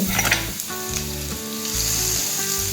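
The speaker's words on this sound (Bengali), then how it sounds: "এখন আমি কাঁচা আম দিয়ে দিচ্ছি" Raw mango dropped into hot tempered oil for a sweet mango-peanut chutney gives a loud, close, continuous sizzle and crackle with no talking.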